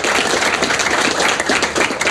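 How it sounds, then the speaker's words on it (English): Dense, loud applause fills the space throughout at a groundbreaking event for a company headquarters, with many hands clapping steadily and close by and no break in the sound. "another round of applause for that team."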